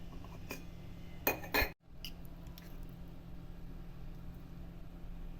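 A metal kadhai is set down on a home gas stove with a few quick clanks and a clattering knock, followed by a quiet kitchen hum and faint ticks.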